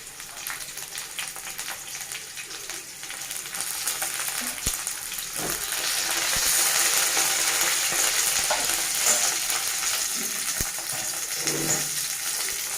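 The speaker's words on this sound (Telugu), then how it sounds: "ఇప్పుడు మనం ఒక రెబ్బ కరివేపాకు యాడ్ చేసుకుంటాం." Curry leaves drop into onions already browning in hot oil for a chana dal and bottle gourd curry, bringing a steady close sizzle that swells louder midway, with a few sharp clinks and stirring scrapes scattered through.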